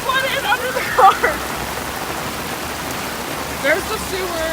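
Heavy rain falling steadily on a flooded city street, a dense, constant wash of noise close around, with people talking over it now and then.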